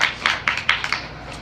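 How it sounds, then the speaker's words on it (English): A short, sparse burst of hand claps for a gaffer named Heather, about half a dozen separate claps in quick succession from a very small group, close and fairly sharp, with no speech. "how about a big round of applause for our gaffer, Heather?"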